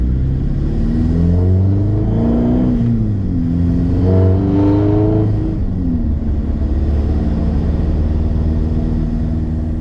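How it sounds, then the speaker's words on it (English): A Toyota pickup truck swapped to a TDI diesel engine runs and revs, a loud, close rumble whose pitch rises and falls through several rev swells before settling into a steady drone. "the truck's running a lot cooler, a lot less smoky, and honestly just running a lot better and smoother all around"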